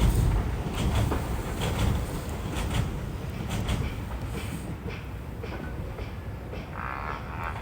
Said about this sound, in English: Get a last shot of DLR trains as we descend.